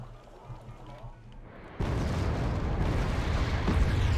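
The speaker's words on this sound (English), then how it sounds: "All right, artillery's incoming." Artillery barrage in the strategy game Wargame: AirLand Battle, a sudden heavy roar of explosions bursting in after a quieter rumbling stretch and then sustained as a dense, loud wall of blasts.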